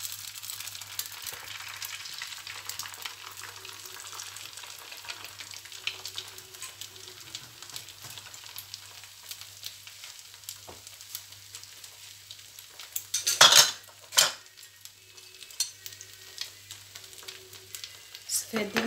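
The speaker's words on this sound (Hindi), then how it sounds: "अंडे की सफ़ेदी बनाऊँगी।" Egg white frying in olive oil in a home kitchen pan gives a steady, faint sizzle throughout, with a brief louder clatter of cookware partway through and soft background noise.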